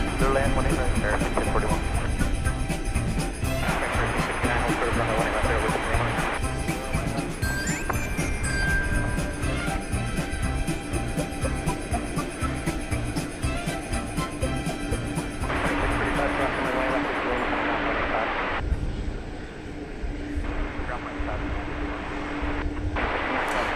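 A jet airliner takes off from runway 18 Left at DFW Airport: a loud, steady, broadband roar that holds strong for the whole stretch and eases slightly near the end, with a voice talking over it.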